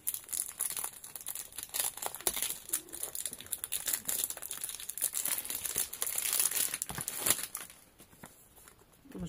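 Packaging being unwrapped from a 100 ml rose sage eau de parfum bottle, continuous close crinkling and rustling of wrapping with soft tearing, fading quieter near the end.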